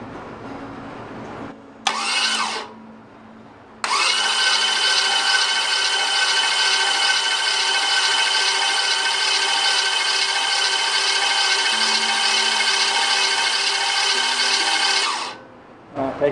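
Starter motor spinning a 350 Chevy small-block engine without firing, a steady whirring drone held for about twelve seconds after a short first burst, close and loud.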